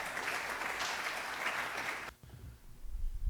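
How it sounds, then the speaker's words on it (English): An audience claps warmly for a guest speaker at a historical talk, a steady burst of applause that cuts off abruptly, followed by low rustling and handling noise. "So can you clap your hands for Dr."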